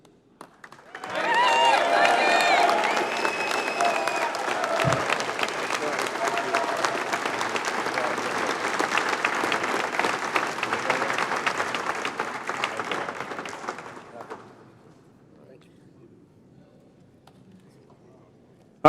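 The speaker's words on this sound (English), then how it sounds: "let's give another big round of applause for our Presidential Citations honorees" Banquet audience applauding at an evening awards ceremony honoring aviation safety citation recipients, a loud, dense roomful of clapping that swells quickly and holds for about twelve seconds before tapering off into quiet room murmur.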